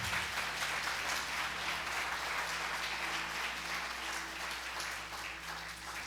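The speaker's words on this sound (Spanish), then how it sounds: "Si va a aplaudir, dele al Señor alabanza." Sustained, loud applause rises from a church congregation during a Sunday service, with dense, steady clapping and a low musical hum underneath that eases slightly toward the end.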